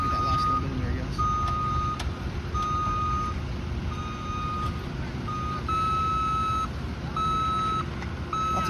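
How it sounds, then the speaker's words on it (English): A construction truck at a concrete road pour in cold weather gives repeated reversing beeps, evenly spaced tones over a heavy engine rumble, with speech at times. "Lots of beeps going on."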